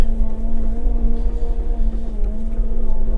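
A Weidemann telehandler with CVT transmission drives forward with a steady, loud engine drone and no gear changes, running alone.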